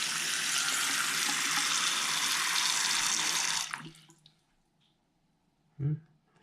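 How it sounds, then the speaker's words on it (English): Water drains steadily down a sink after clearing it with a plastic drain snake, a constant rushing gurgle that cuts off partway through, leaving near silence and then one brief clunk. "Seems to be draining a little bit faster."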